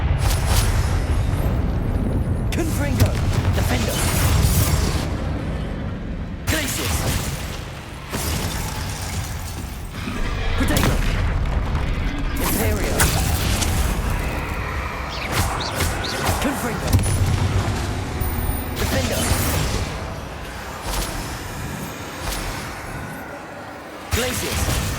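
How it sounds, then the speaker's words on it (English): Confringo fire spell blasts in the Hogwarts Legacy video game, a dense run of booming, crackling explosions and shattering impacts repeating throughout amid constant loud combat noise, with a voice speaking over parts of it. "Confringo!"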